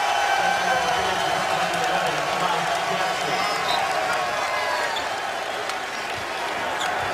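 A basketball arena crowd during a Kansas Jayhawks versus West Virginia Mountaineers game keeps up a continuous roar of cheering, with a commentator talking over it.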